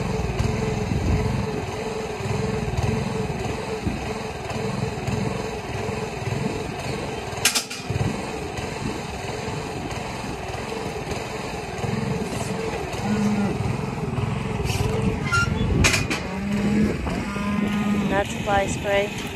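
A steady mechanical engine drone runs throughout, with cattle mooing and lowing over it and a few sharp clanks.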